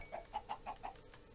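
A chicken in a fantasy video game gives a faint series of five or six short, evenly spaced clucks, quiet and slightly glitchy, with no talking over them.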